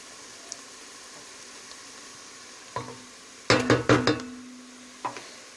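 Onions, peppers and meat fry in a pan with a low sizzle, while a utensil scrapes and clatters against the pan in a short burst of clinks, close and without talk.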